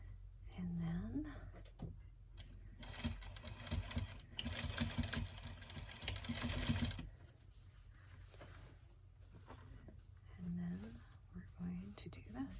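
A sewing machine runs in a steady loud burst for several seconds, stitching bias tape onto the collar of a bumble bee dress, with quieter handling and whispered talk before and after.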